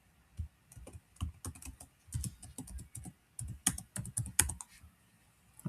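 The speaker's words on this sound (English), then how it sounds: "So let me just input a password." Quick, irregular bursts of keystrokes on a computer keyboard enter a password, clicking close and clear in a quiet room.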